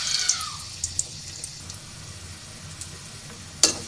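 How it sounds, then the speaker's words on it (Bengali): Taro pieces fry in hot oil in a kadai, a soft continuous sizzle with a few sharp clinks and pops of stirring scattered across the clip. "সবগুলো আমি ভাজা নিব।"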